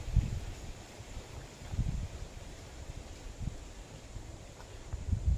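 Wind gusting across the microphone in low, rumbling bursts, with a soft airy rustle in between and nobody talking.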